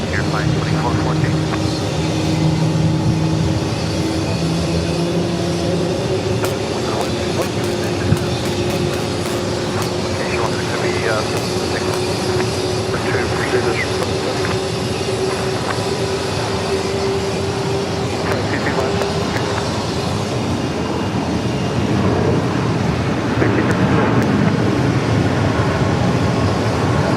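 A jet airplane at Phoenix Sky Harbor Airport gives off a loud, continuous roar with a rising engine tone, heard outdoors under intermittent radio chatter from air traffic control.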